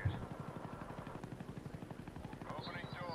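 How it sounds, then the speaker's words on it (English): Rapid rhythmic rotor thumping of a chopper gunner helicopter in Call of Duty: Black Ops, a steady close beat that runs through the whole stretch, with someone talking over it. "chopper gunner's called in"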